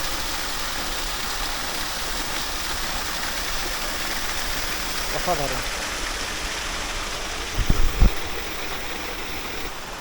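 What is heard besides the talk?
waterfall at Dhangikusum, water falling onto rocks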